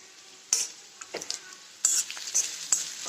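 Chopped onion frying in oil in a pan for a dry watermelon-rind vegetable dish, with intermittent bursts of sizzling and stirring scrapes over a quiet background, close and moderately loud.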